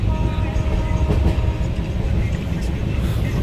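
Inside a moving passenger train at night, a loud steady rumble and rattle of the carriage fills the space with continuous low roar and faint clatter, with no clear speech.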